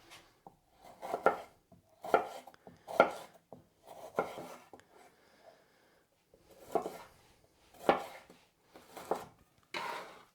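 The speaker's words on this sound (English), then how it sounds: "the other half of each pepper I'm just going to cut finer to put in like my falafel or my lettuce wraps" A knife chops bell peppers finely on a cutting board, producing clusters of quick, crisp strikes separated by short pauses, close and clear with no talking.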